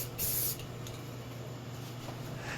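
Spray primer goes onto a model ship superstructure in one short, close hissing burst of about a third of a second, followed by quiet room tone.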